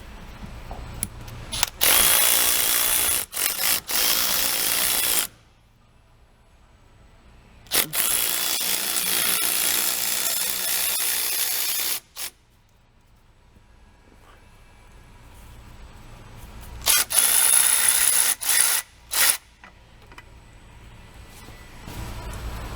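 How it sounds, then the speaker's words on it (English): A spring compressor is loosened on a RAM TRX rear coil spring, with long, loud power-tool runs of several seconds separated by quieter pauses and brief clicks. "we'll just loosen the compressor and we should be done."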